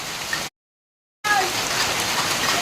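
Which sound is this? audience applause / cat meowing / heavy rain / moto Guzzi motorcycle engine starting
heavy rain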